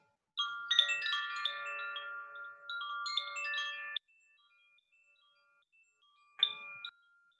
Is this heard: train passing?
no